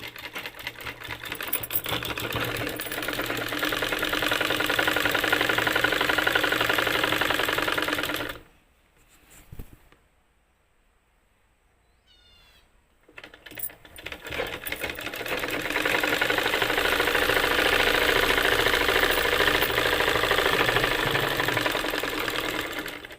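A sewing machine stitches a blouse in two long, steady runs of rapid mechanical clatter, separated by a few seconds of near silence with faint handling clicks as the fabric is adjusted.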